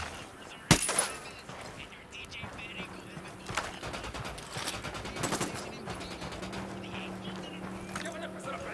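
Gunfire in Ghost Recon Wildlands: one sharp, loud shot, then scattered bursts and rapid rattling fire in a busy outdoor scene, with faint voices and bird-like calls mixed in.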